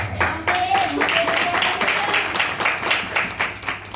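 Scattered hand clapping from a church congregation during a Hindi Sunday service, irregular and mid-loud, mixed with voices and a faint sustained tone.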